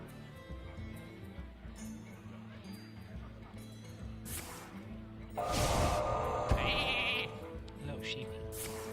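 Sheep in a video game give a loud, wavering bleat midway through, standing out over a busy mix of game music and effects, with a voice talking around it.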